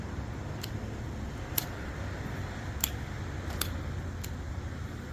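Scissors trimming evergreen branches for a winter container arrangement in a large urn, several sharp, crisp snips spaced about a second apart over a low, steady background.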